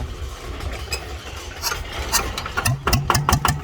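A Kubota-type rice transplanter's small engine idles nearby in a farm machinery yard, with a low rumbling chug and a few sharper bursts toward the end.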